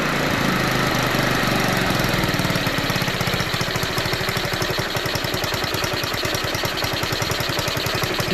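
GY6 scooter engine idling on a homemade scratch-built run stand, a steady close rumble with an even pulsing beat that settles into a faster, regular rhythm as the idle is tuned, with no talking.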